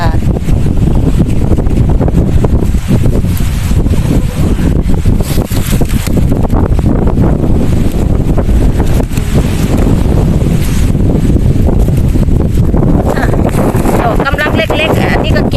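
Strong wind gusts buffeting the microphone outdoors while oyster mushrooms are picked in Germany, a constant loud low rumble throughout, with occasional faint talk underneath.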